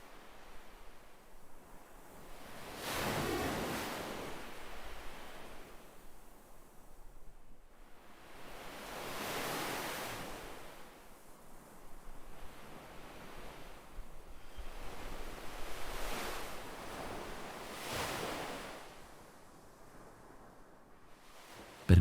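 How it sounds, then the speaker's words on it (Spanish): Ocean waves break on sand at night in slow, rhythmic surges, each swell rising to a rushing crash and fading into a wind-blown hiss, roughly four broad waves, fairly close with no voices. "Escucha atentamente el ritmo hipnótico de las olas al romper sobre la arena."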